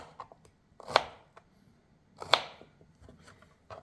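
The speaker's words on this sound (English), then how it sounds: "And now we're just cutting that in segment like this." A knife slices through an artichoke into segments on a board, giving two sharp, distinct cuts with a few softer scrapes and taps between them, close and clear with no talking.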